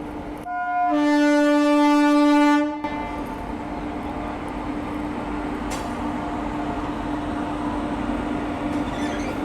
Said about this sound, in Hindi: किसी और ट्रेन का अराइवल हो रहा है